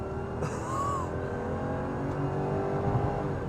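A V8 Mercedes-Benz W210 E430 accelerates onto a freeway, its engine holding a steady, moderate drone from inside the cabin as speed builds, with a brief rising whine early on and no talking.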